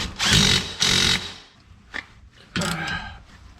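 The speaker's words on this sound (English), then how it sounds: "Rattle wrench." A pneumatic rattle wrench tightens the control arm bolts on a junkyard 5.3 BMW build in two loud, close bursts, then a brief tap and a third burst, with a harsh whirring rattle.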